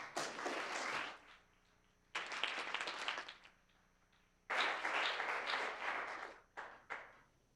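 An audience claps in three separate bursts for a speaker at a law school storytelling event, each burst of many hands rising quickly and dying away, with quiet gaps between them.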